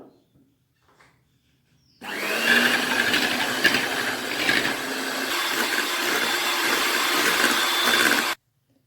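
After a quiet moment, an electric hand mixer starts whipping cream with condensed milk in a bowl, a loud, close, steady whirring buzz with beaters rattling that runs for about six seconds and then cuts off.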